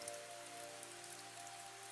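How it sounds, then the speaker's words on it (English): Steady rain falling outdoors, an even, continuous hiss of drops on surfaces at low level with a faint hum beneath, no voices. "Outside, the rain continued."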